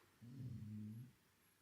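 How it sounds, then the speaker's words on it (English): A female pet dog gives a single low, drawn-out growl lasting about a second, close but quiet against a soft background hum, with no talking. "that's my dog."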